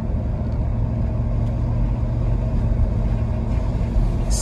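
A 2007 Cadillac Escalade with a transmission fault creeps along at low revs, its engine a steady, close low rumble with no speech over it.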